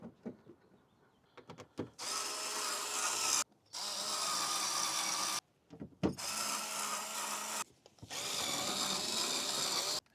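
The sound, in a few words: power drill driving screws into wood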